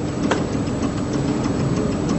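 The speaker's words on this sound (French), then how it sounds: "Il s'agit du moteur Stirling, ou moteur à air chaud." Stirling hot-air engine runs steadily, a loud, continuous mechanical rumble with a fast, even rhythmic clatter throughout.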